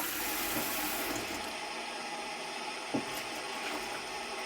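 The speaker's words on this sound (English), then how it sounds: "Water into the pot." Tap water pours in a continuous, steady hissing rush into a cooking pot on a kitchen stove, with a small clunk partway through and no talking.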